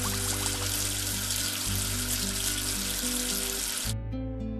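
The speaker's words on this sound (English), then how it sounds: "Wash away the soap with water." Running water rinses soap away in a steady hiss under continuous background music, cutting off shortly before the end.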